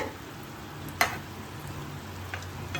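Pieces of Jaffna-style chicken shallow-frying in hot oil, a steady close sizzle with one sharp clack as a piece is gently turned.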